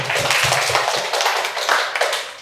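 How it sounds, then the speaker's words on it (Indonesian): Audience hands clap together at a session on Aceh oral tradition programs, forming a steady, fairly loud patter that fills the room with no voices over it. "Kita beri tepuk tangan."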